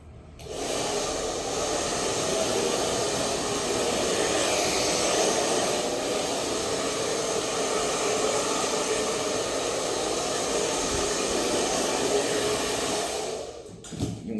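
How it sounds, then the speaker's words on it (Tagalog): A barber's electric hair blower drying a customer's hair, a loud steady whooshing roar that holds constant for about fourteen seconds with no talking. "Yung iba naman, blower."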